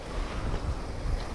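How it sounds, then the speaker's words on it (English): Strong wind blows across the open top of old town walls, a dense rumbling gust buffeting the microphone in a steady low roar. "Yeah, wind blowing, pushing her, she said."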